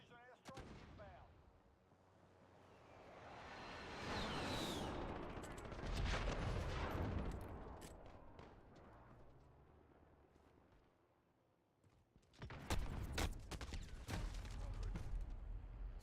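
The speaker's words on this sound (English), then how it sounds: "Be advised, friendly precision airstrike inbound." A precision airstrike in a shooter game: heavy explosions boom and roll out in waves, a big blast near the start, a swelling rumble in the middle, and another burst of impacts near the end, with faint radio voices.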